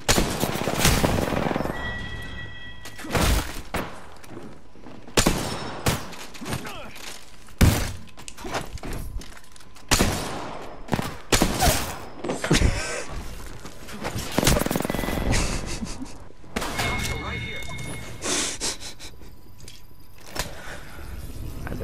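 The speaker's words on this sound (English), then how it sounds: "Enemies are shooting at me" Repeated bursts of enemy gunfire in the Apex Legends video game, sharp loud volleys and rapid automatic fire spread across the stretch with short gaps between clusters, mixed with impact and clatter effects.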